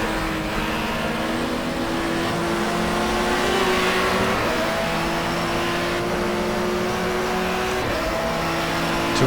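Touring car engine in the racing game GTR2, a German Touring Car Cup race at Diepholz, holding a loud steady high-revving drone with gear-change dips and rising pitch, continuous throughout with no talk.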